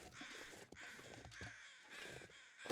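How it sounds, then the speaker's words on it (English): Crows caw repeatedly near a dead deer in The Long Dark, harsh calls rising at intervals over a windy winter backdrop, fairly close and clear. "Finding the deer by listening to the crows."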